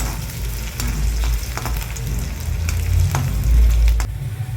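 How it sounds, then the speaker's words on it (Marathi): Onions frying in oil until browned, a base for green chilli chicken sukka, with a loud close sizzle, low rumbling, and a few stirring scrapes. "तेल लागते आता हे आपण कांदा चांगला लाल होऊ द्यायचा"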